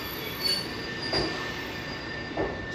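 A yellow train in Japan rolls steadily along the rails with a constant metallic hum, and soft periodic clacks recur about every second.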